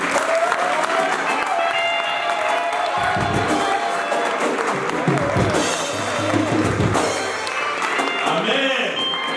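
A church congregation applauds and cheers loudly and continuously, a dense crowd roar with whoops and raised voices mixed in throughout.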